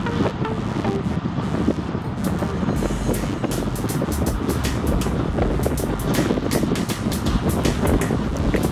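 Steady rushing headwind roars across the microphone while cycling on a flat road, loud and continuous throughout with no break.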